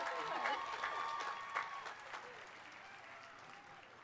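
Applause from a commencement audience greets an honoree, a dense burst of clapping with a few cheers that gradually thins out.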